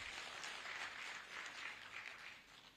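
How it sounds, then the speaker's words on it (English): A crowd at a national cooperative meeting applauds steadily, a dense wash of clapping hands that holds at an even level for a few seconds, heard from some distance. "Ladies and gentlemen, give Professor Alex another round of applause."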